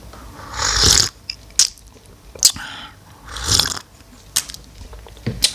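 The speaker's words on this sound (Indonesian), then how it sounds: "seruput kopinya dulu ya" Coffee is slurped in several loud, close, breathy sips separated by short pauses and smaller mouth sounds, with no talk over it.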